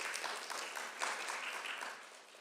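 An audience at a public discussion on diversity, equity and inclusion in Malden claps briefly, a soft, distant round of applause that fades toward the end with no voices over it.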